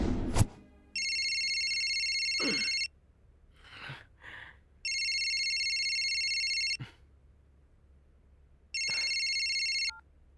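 A telephone rings early in the morning during a film scene, sounding in three long, steady ring bursts separated by pauses with faint rustling and movement in between.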